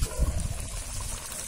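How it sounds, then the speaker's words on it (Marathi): Water is poured onto a plate covering chicken cooking in a pot for a traditional village chicken rassa, a soft, brief trickling splash that is quiet and close. "आता ह्याच्यावरती ताटात आपण पाणी ओतायचं"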